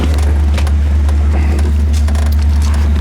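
A 1955 Ford Thunderbird engine idles at about 900 RPM, a loud, close, steady low rumble with a faint ticking crackle, running evenly throughout.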